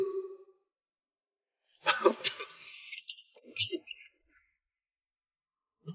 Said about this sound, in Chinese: 我看你咳嗽很久了